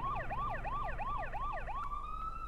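A wailing ambulance siren in the video game GTA 2, sweeping up and down in fast regular cycles before settling into a steady tone, heard alone at moderate level.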